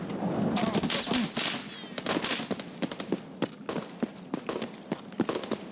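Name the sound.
gunfire from PMC in Escape from Tarkov video game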